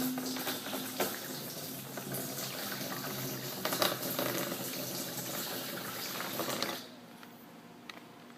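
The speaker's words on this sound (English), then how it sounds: "We're going to just pour this in there." Bleach poured steadily into a water storage container, a continuous close splashing gush that runs for several seconds before abruptly stopping, followed by faint drips.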